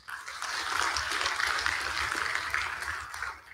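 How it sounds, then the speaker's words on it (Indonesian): Dense, steady applause fills a town hall youth forum on voting at 18 in Selangor, a continuous hiss of many hands clapping throughout at moderate loudness. "Satu tepukan untuk anda semua."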